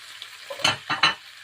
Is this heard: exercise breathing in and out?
no